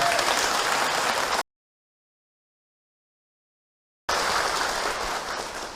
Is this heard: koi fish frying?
no